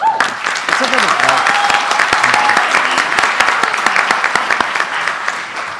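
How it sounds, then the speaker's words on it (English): Sustained applause from an audience at a crowning gala, a dense steady roar of many hands clapping that starts abruptly and holds strong throughout, with a voice briefly audible at the very beginning. "let's give a round of applause."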